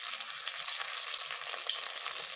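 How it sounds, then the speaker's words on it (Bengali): Sun-dried sago papads fry in hot oil in a kadai, giving a dense, continuous bright sizzle with crackling bursts, close and fairly loud. "কড়াতে আমি তেল দিয়ে নিয়েছি। তেল গরম হয়ে গেছে। এবার আমি পাঁপড়গুলোকে ছাড়ব।"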